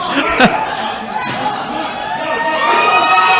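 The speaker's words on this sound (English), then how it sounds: "Josh stands back up with an ovation from the crowd" A crowd cheers and shouts in applause at a knight fight as an armoured fighter gets back to his feet, rising toward the end with a thud early on and commentary talk mixed in.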